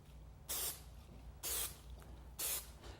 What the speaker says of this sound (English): get my contact cement and spray the corner blocks